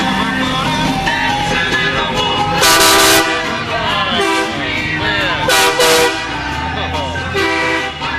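A loud, multi-tone train horn fitted to a cruising hot rod or muscle car sounds in repeated blasts at a Route 66 car-cruising event, with voices and street noise around it.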